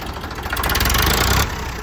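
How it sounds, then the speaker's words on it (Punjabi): A Sonalika 745 tractor engine runs nearby in a steady, loud idle with a rough, knocking low rumble that swells briefly in the middle of the stretch. "ਬਾਈ ਪਵਨ ਬਾਈ ਸਾਡਾ ਟਰੈਕਟਰ ਸਟਾਰਟ ਕਰਕੇ ਲਿਆ"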